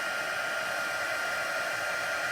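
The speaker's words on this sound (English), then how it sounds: "I'm going to crank up my heat tool." An embossing heat gun runs at full blast during card making, a continuous close, steady roaring hiss like a hair dryer with no pauses or voices.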